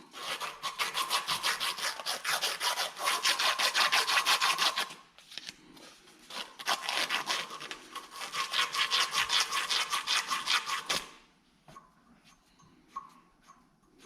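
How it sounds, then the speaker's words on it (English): Steady back-and-forth rasping of sandpaper smoothing burrs from a piece of tubing lightly clamped in a vise, close and loud in two long runs of scraping strokes separated by a brief pause, then quiet handling. "I'm just going to do a little sandpaper job on it."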